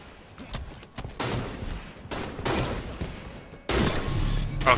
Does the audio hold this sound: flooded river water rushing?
no